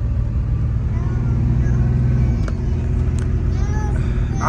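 A 1989 Chevy S-10 pickup truck driving around the block, its steady low engine drone and road rumble filling the cab from inside, close and continuous, while people talk over it.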